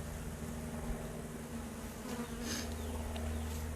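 Honey bees droning around a hive on a hot day, a continuous low buzz with a few louder passes close by, no talking.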